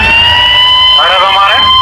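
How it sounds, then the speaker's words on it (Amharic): A wailing ambulance siren with sweeping tones rises and falls in the second half over a steady high alarm-like tone, loud and close. "የአምቡላንስ ድምጽ ከፍተዋል"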